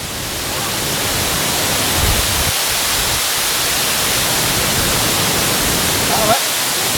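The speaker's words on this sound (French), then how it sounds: "C'est juste là, le cascade." Water cascades steadily down a mountain waterfall on Mauritius, a loud, continuous broadband rush heard up close, with brief voices underneath.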